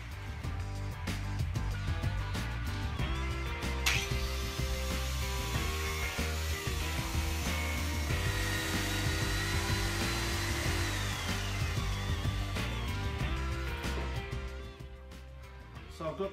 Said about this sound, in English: I'm just finishing sanding the limbs down to the same thickness as the riser there